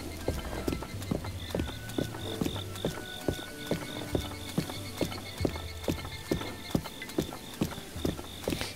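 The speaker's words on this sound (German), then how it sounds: "hier ist ein schlaues Pferd." A horse's hooves clip-clop at a steady, even trot in the video game The Legend of Zelda: Breath of the Wild, with regular crisp hoofbeats over quiet game ambience and a faint tonal chime.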